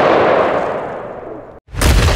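An AR-15 rifle fires a 5.56 round into a frozen turkey outdoors: a loud, broadband roar, then a brief drop to near silence, then another loud burst close to the mic.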